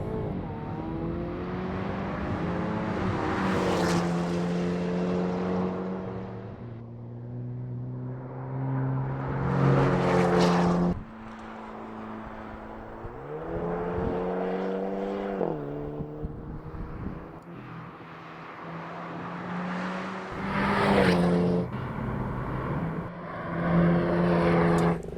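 A 2023 Hyundai Kona N engine climbs through higher RPMs in several rising pulls, with drops and gear-change dips between them, heard steadily from inside the car over about twenty-five seconds.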